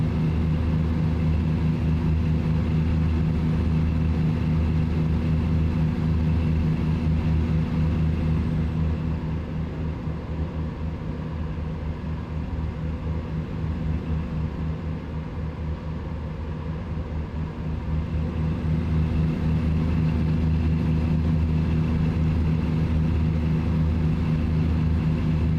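A truck driving in American Truck Simulator near Tucumcari, New Mexico, with a steady low engine drone and road rumble running loud and unbroken throughout, dipping slightly midway.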